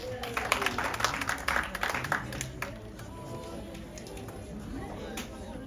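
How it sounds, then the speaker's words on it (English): Applause from the audience closing a session of a children's dialogue event, a dense patter of many hands, loudest in the first three seconds and then thinning into scattered clapping and room murmur. "A round of applause"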